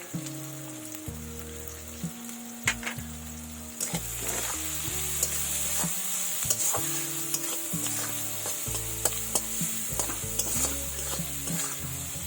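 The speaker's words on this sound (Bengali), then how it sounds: "এগুলো আমি ভালো করে ভেজে নেব পেঁয়াজ রসুন লঙ্কা ভাজা হয়ে গেছে" Onion, garlic and green chili sizzle in oil while a spoon scrapes and stirs the pan in repeated knocking strokes. Music plays underneath, and the frying hiss grows steadier after the first few seconds.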